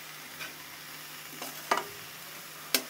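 Spices cooking with coriander powder for a sour red-amaranth and olive curry, a faint even sizzle under a steady low hum, with a few sharp spatula taps against the pan.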